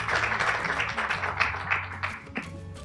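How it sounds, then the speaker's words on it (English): A workshop audience applauds with dense, continuous clapping from many hands, fairly close, trailing off toward the end into a few scattered claps. "Warm applause."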